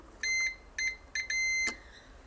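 A multimeter in continuity mode, testing the wiring of a Diamond Select Star Trek TOS phaser, gives four sharp, clear beeps of uneven length close by, the last one longest, with no talk.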